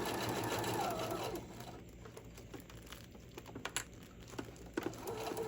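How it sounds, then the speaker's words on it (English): A sewing machine runs a straight stitch, attaching tissue paper to fabric for an easy-grip jar opener, with a steady fast whirring patter that slows and stutters partway through, faint voice audible near the start and end. "you're essentially just sewing the tissue paper onto your project."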